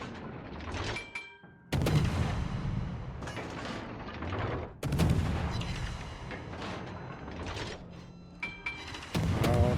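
Naval gunfire from warships in a World of Warships-style battle game booms in several loud, close salvos, each sharp blast followed by a rumbling decay, with short pauses between them.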